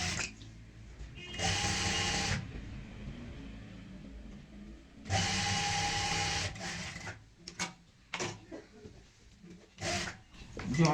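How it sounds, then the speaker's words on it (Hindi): Sewing machine stitches along the piping of a cushion cover in two bursts of fast whirring, separated by quieter handling noises, with soft talk in between. "जो हमारी पाइपिंग वाली सिलाई है इसी के ऊपर सिलाई लगाते हुए इसको अटैच करेंगे।"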